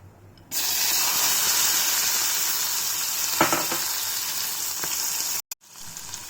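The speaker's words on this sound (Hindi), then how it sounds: "घी गरम हो चुका है और अब हम इसमें ड्राई फ्रूट्स अपने डालेंगे।" Dry fruits drop into hot ghee in a kadai and burst into a loud, steady hissing sizzle with a few stirring clicks, then a brief silent cut before the frying resumes.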